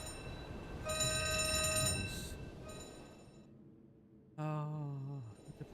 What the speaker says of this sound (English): the alarms are going off.